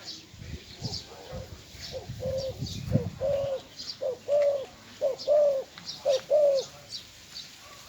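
A large bird with a loud call repeatedly gives deep, resonant coos in a steady series, close by, after a stretch of rustling and low voices.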